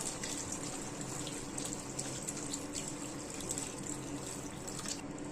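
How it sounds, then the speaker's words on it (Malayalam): Steady rushing water pours continuously, close and fairly loud, into a cooking pot for mutton roast, with no break in the flow. "ആവശ്യത്തിന് വെള്ളം ആദ്യം കൊണ്ട് ഒഴിച്ചു കൊടുക്കാം"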